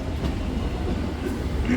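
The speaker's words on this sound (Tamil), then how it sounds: "மதுரைக்கு ஒரு சூப்பர் ட்ரெயின் தான்." Train noise from a superfast unreserved express pulling into Madurai Junction in the morning: a steady, loud low rumble of rolling carriages that holds throughout, with faint rail clatter and no talking.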